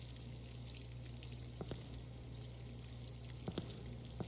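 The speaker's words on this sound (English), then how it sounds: "It sounds like running water." Running water plays faintly and continuously in Spirit Hunter: Death Mark II. The low wash is steady, with a few soft drips or knocks near the middle and the end.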